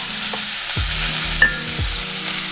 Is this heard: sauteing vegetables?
yes